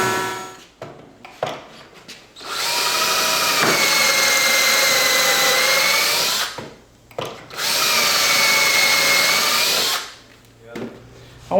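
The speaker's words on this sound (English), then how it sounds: "Go ahead and drill our pocket holes" Power drill boring pocket holes in a wooden cabinet face frame, two sustained high whining runs of several seconds each with short gaps and some handling noise between, fairly close and loud.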